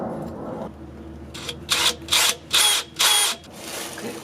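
A power drill with a 1/4 inch bit bores a pilot hole during a van air conditioner condenser install, giving four short, loud whirring bursts in quick succession after a quieter start, with no talking.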